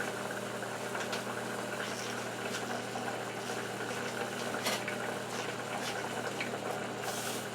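A stick of margarine melts in a frying pan with a steady, dense sizzle and crackle that carries evenly throughout, with occasional sharper pops and a low background hum.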